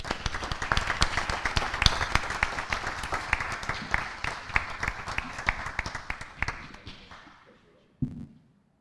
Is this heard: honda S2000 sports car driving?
no